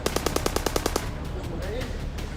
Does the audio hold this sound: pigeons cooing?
no